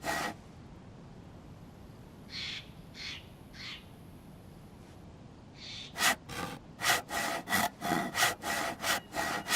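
A handsaw cutting wood in the survival video game DayZ, first a few faint scraping strokes, then after a pause a steady run of about a dozen louder back-and-forth rasping strokes with no talk.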